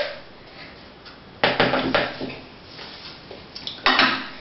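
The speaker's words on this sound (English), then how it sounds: "now I'm just taking a spoon and mixing it out." A spoon clinks and scrapes against a container while mixing a lemon popsicle mixture, sounding as a few close, bright taps and scrapes in a quiet room.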